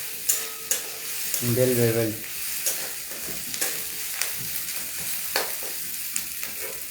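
Spice paste frying in a pan while being stirred, with scattered spatula clicks and taps over a low sizzle; a voice speaks briefly partway through.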